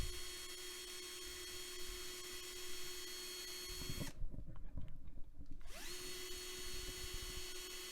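A power drill whines steadily at close range, then cuts to a rougher grinding burst as it bites through metal rivets on a Matchbox toy car before resuming its even hum.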